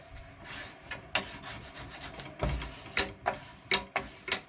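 Bone folder pressed and rubbed along a paper junk journal cover, a run of soft scraping rubs that end in several short, sharp strokes, close and quiet with no talking.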